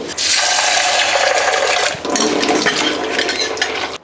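Toor dal (pigeon peas) being washed in water, with a steady loud slosh and rattle of grains swirling in a vessel, a brief pause near the middle, then continued splashing and stirring.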